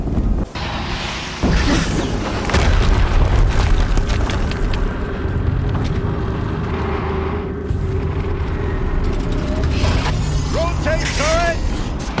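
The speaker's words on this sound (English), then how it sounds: "Another explosion." An explosion in the video game Horizon Zero Dawn bursts in loudly after a second of quiet, then rolls on as a heavy, sustained low rumble. Faint synthetic chirps rise near the end.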